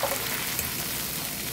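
Two eggs fry in a little oil in a pan for a thin egg garnish, a close, continuous crackling sizzle with no talking.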